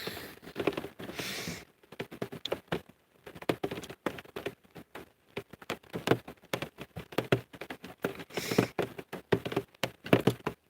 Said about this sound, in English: let's just go sit in the shed, listen to the rain fall on the roof.